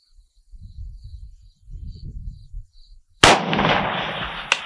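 A Zastava M90 AK rifle fires a single loud, sharp shot with steel or mixed ammo at a long-range target, the blast ringing out briefly after a quiet stretch of faint low rumble and wind.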